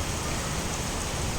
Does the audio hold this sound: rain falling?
yes